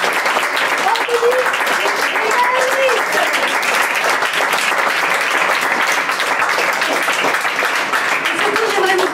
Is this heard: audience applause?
yes